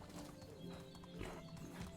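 A horse's hooves clip-clop in a steady walking rhythm in the medieval survival game Medieval Dynasty, faint and even, with a brief whinny.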